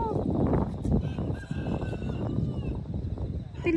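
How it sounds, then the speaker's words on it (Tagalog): Chickens cluck and crow nearby during an outdoor jog, with several honking, drawn-out calls rising over a busy, continuous background bustle. "May mga manok."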